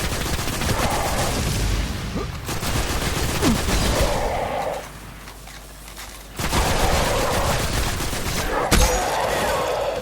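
Dense bursts of automatic weapon fire in the Destiny video game come in loud, sustained volleys with a brief lull near the middle, then the shooting resumes and ends with a sharp single blast.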